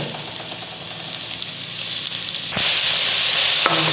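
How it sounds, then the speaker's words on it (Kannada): Tomatoes and onions fry in a hot pan for Mangalore-style chicken pepper, giving a close, steady sizzle that jumps louder midway as more goes in, with brief stirring clatter. "ಈಗ ಟೊಮೆಟೋನ ಹಾಕ್ತಾ ಇದ್ದೇನೆ ಟೊಮೆಟೊ ಈರುಳ್ಳಿ ಸ್ವಲ್ಪ ಸ್ವಲ್ಪ ಮೆದುವಾಗಲಿ"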